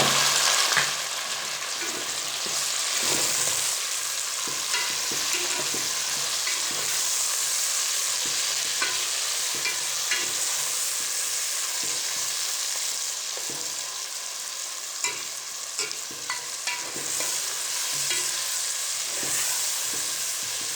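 Garlic ginger paste fries and is stirred in hot oil for biryani, giving a constant soft sizzle with frequent scraping clicks from the stirring.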